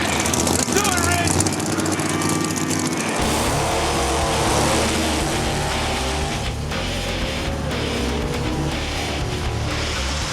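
Drag racing cars roar past at full throttle, a Chevy passing a Falcon, loud and sustained engine noise filling the whole stretch with an announcer talking over it.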